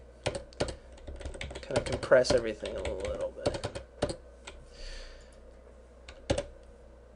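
Someone types on a computer keyboard while writing code in a script editor, with bursts of quick key clicks and pauses, while a person talks alongside the typing.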